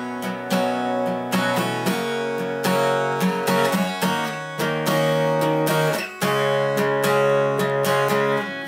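Acoustic guitar strummed through the verse chord pattern of a song, steady down-strokes ringing out in a clear repeating rhythm, close and loud with no talking.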